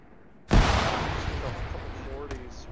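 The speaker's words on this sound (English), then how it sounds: "I think that's a grenadier. Well, then yeah, three in a row? That's a GP25, yeah." A single GP-25 grenade launcher round in a military video game lands with a sharp, loud blast, and a long rumbling decay trails off over the next two seconds.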